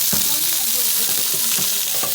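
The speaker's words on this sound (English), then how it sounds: "as you can see, my rice has come to a boil" Rice boiling in a pot on a stovetop, a continuous bubbling hiss with small pops and crackles, close and steady throughout, no voices.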